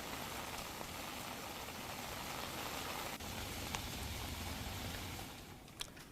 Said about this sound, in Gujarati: ધોધમાર વરસાદી માહોલ છે